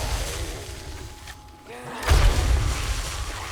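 A loud explosive boom in a video game erupts after a brief lull, followed by rumbling debris and continued noisy action.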